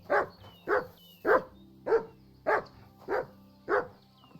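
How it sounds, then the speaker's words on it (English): A dog in the video game Kingdom Come Deliverance II barks seven times at a steady rhythm, each bark close and loud, evenly spaced about half a second apart with quiet gaps and no talking. "Good dog, Mats."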